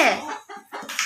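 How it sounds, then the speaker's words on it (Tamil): A hen laying an egg gives short clucks and squawks, close by and irregular, in a brief burst with a voice faintly mixed in. "கோழி முட்டை விடுது"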